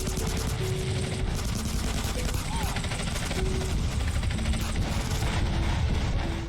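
Minigun fire in the video game GTA San Andreas, a dense sustained rattle of rapid shots running nonstop at loud, even intensity with a mechanical whir beneath.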